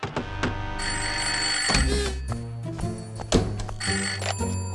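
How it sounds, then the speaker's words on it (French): A cartoon telephone rings in the French animated series Elliot Mouse: a bright, trilling bell that sounds in repeated bursts over a few seconds, loud and close, with no voices during the rings. "Allons, ce n'est que le téléphone."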